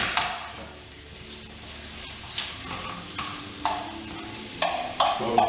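Duck leg confit and onion frying in a pan over medium heat, a steady sizzle broken by repeated scraping stirs every second or so, close and moderately loud, with no talking.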